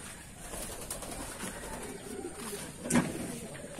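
Pigeons coo softly inside a loft of Taiwan gold line birds, low murmuring calls with a brief louder coo near the end, heard without talk over a faint background.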